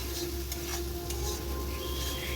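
Spice paste stir-fried in a pan for a village-style potato curry, with a steady close sizzle and faint scraping of the spoon running unbroken and alone.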